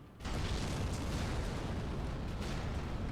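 Fire bomb bursting in Dark Souls, a sudden loud boom that settles into a sustained roaring, rumbling blast filling the rest of the moment.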